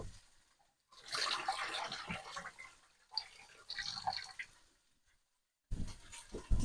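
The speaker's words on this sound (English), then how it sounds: "I'm just going to drain off the potatoes." Hot water drained off boiled potatoes, in separate gushing splashes broken by short silent gaps, fairly close and moderately loud.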